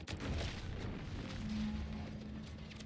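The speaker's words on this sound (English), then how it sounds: "What's that? An explosion?" Muffled video game explosion in Outer Worlds 2, a low rumbling boom that rolls on for a few seconds at moderate loudness, heard alone without talk.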